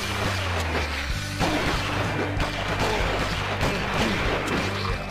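Gunfire from shooting zombies in the Z Buster video game, dense, booming shots and crashing impacts over a continuous loud game backdrop, with no pauses.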